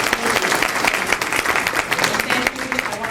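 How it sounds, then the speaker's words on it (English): An audience at a leadership network event applauds steadily, a dense, even wash of many hands clapping close by for the whole stretch. "Can we give another round of applause?"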